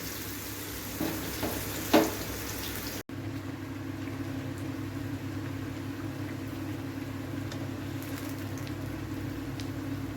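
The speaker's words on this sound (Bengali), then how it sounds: "এইভাবেই সব বেগুনের চপগুলা ভেজে নিব।" Eggplant chops (begun chop) frying in hot oil in a pan over low heat: a steady, fairly quiet sizzle running throughout, with a few brief clinks of utensils early on.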